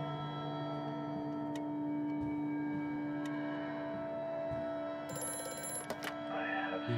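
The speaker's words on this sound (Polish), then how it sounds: "Telefon." An old telephone bell rings inside a dark house in the horror game Amnesia: A Machine for Pigs, a steady ringing tone over a low hum and ticking, with brief clicks and a voice near the end.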